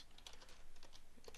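Quiet rapid keystrokes on a computer keyboard, a faint run of irregular clicks with no talk.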